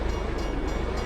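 A train in a video game rumbles past in a steady, close, continuous roar of rolling wagons with no horn or voices.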